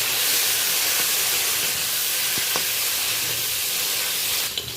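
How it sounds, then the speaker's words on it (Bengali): Crabs fry in hot oil with a spice tempering, giving a loud, even, steam-like hiss that fills the whole stretch, with faint stirring clicks and a brief clatter near the end. "ফোড়নের সাথে কাঁকড়াটাকে বেশ ভালো করে আমি 3-4 মিনিট ধরে উল্টে পাল্টে ভালো করে ভেজে নিলাম"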